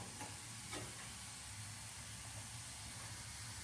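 Masala dosa cooking on a hot pan gives a steady, soft sizzle and hiss throughout, with a faint low hum beneath and no voices.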